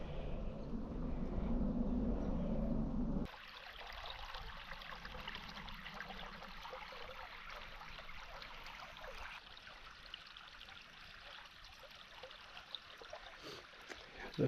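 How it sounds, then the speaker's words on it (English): A small creek flows through a wooded Missouri state park below rocky bluffs, a soft continuous trickle and babble heard fairly faintly, with louder rushing in the opening seconds before it settles into a quieter steady flow. "popped out in this nice little creek view here"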